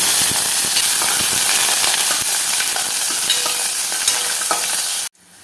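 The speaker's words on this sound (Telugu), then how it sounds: "ఆయిల్ హీట్ అయ్యాక దీంట్లో ఆవాలు, జీలకర్ర, ఇందులోకి పొడవుగా కట్ చేసి పెట్టుకున్న ఆనియన్స్ని వేసుకోవాలి" Mustard seeds, cumin and long-sliced onions hit hot oil for Telangana rasam, giving a loud, close, crackling sizzle with popping seeds and stirring clatter that runs steadily, then cuts off abruptly near the end.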